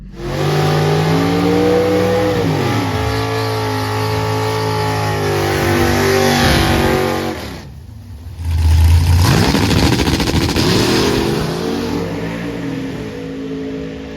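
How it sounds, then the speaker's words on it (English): A nitrous drag car accelerates down a quarter-mile strip, loud and close. Rising engine pulls sweep upward in pitch, the sound drops sharply for a moment, then roars back and fades toward the end. "So on Greg's second run, the power shut off partway through because the off switch on the back bumper somehow got pressed in"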